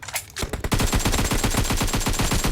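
Automatic gunfire from the video game PUBG rattles out in a fast, loud, close burst after a brief opening shot, the rapid evenly spaced reports running to the end.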